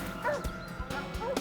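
A police tracking dog following a fugitive's scent barks close by, two or three quick, loud barks with short yips between them, over a low background drone.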